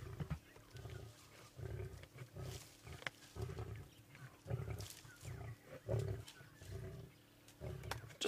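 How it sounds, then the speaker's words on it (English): Male lion near a kill, giving low rhythmic growls and grunts in repeated pulses, faint and somewhat distant, with no talking. "Oh, listen, we might get a lion call."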